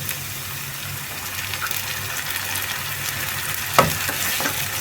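Grated tomato frying in a pan for a meatless Moroccan dish, a loud, steady, close sizzle with a few soft stirring scrapes and one sharper clatter near the end, no voices.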